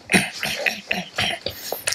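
A young woman coughs and clears her throat several times in quick, close bursts.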